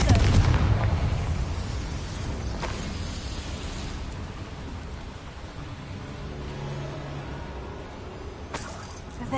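Confringo fire spell in Hogwarts Legacy, a booming explosion burst at the start followed by rumbling, crackling debris and a second sharp blast near the end.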